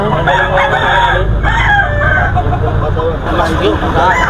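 Sinibalang gamefowl cocks crow over and over at a busy rooster market in San Jose del Monte, Bulacan. Several overlapping calls of middling loudness rise from constant crowd murmur, with clucking and chatter close around.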